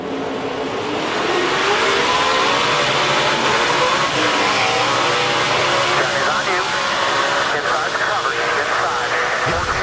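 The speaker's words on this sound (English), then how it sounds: "He's trying to go, but the tires are spinning." A NASCAR Camping World Truck Series truck spins its tires on a restart, a loud engine roar that keeps climbing, with radio-style voices talking over it.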